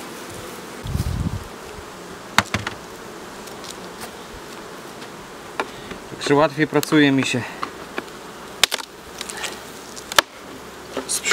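Buckfast honey bees buzz steadily close by, a continuous hum with occasional louder passes and sharp knocks, while someone talks briefly over it.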